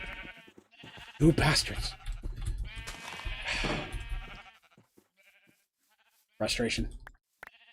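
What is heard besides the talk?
sheep bleating in Minecraft (video game)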